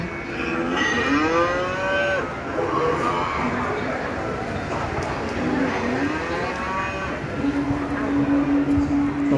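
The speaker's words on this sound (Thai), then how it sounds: "เห็นวัวร้องครับวัวร้อง" Cows low repeatedly in an outdoor temple garden near the Tha Chin River in Nakhon Pathom, several long moos in sequence, fairly close and loud over a steady ambient hum.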